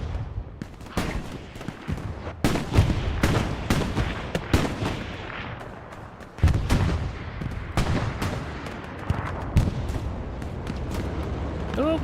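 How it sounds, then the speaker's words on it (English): Rockets and gunfire pound a position in the World War II shooter Hell Let Loose on the Sainte-Mère-Église map, a dense, continuous barrage of sharp cracks and booming impacts, loud and close throughout. "But lots of rockets going into that Lux."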